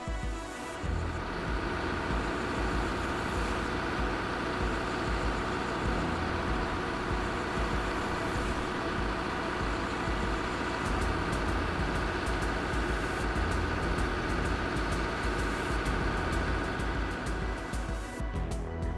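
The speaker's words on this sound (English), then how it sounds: "shows the country's largest dredger. In action, powered by a V12 Cummins engine, it works slowly" A V12 Cummins engine drives a large river dredger during bridge construction, giving a steady, unbroken low mechanical drone at constant loudness with no voices.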